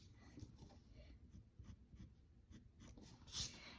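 Pencil eraser scrubbing on paper while drawing an airplane, faint close back-and-forth rubbing strokes in a quiet room, soft and irregular.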